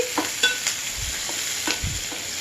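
Chopped green chilies and large onions fry in a pan for a chana dal curry, giving a steady close sizzle with a few soft spatula scrapes and clinks, with no voices.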